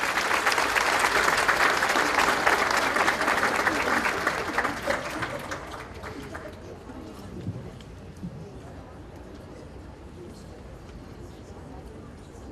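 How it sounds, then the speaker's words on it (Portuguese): An audience welcomes an education speaker, Professor Celso Antunes, with loud sustained applause that fades after about six seconds, leaving a quiet room with faint noise. "Senhoras e senhores, com os aplausos de vocês, professor Celso Antunes."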